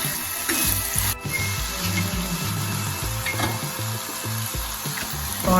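Leftover roti curry with buttermilk sautéing in a pan, a steady loud sizzle with occasional scraping and stirring against the metal, no voices.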